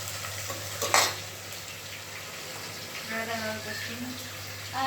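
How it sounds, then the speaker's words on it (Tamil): Chopped onions sautéing toward golden brown for biryani, a soft sizzle with a brief scrape of stirring and a low steady hum underneath, no clear speech. "வெங்காயம் வந்துட்டு நல்லா பொன்னிறமாக வதங்கணும்"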